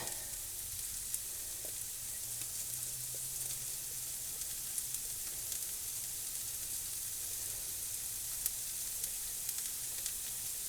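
Patties and onion for canned Salisbury steak frying in a pan, giving a steady, even sizzle that runs the whole time with no one talking.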